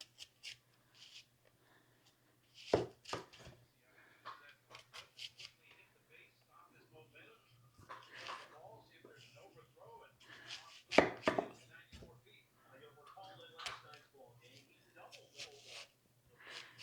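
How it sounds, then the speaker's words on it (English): Knife chopping onions into thick rings for onion rings on a cutting board, sharp scattered thunks in irregular bursts, close, with someone talking through much of it. "you want to cut your onions fairly thick because we're making onion rings"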